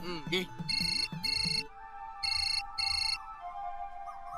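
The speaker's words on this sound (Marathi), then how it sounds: "आत्ता नाव काढलं ना फोन आला." A mobile phone ringtone rings in a domestic scene, a melodic electronic tone repeating in four clear bursts; speech is heard faintly early on, and room tone continues after the ringing stops.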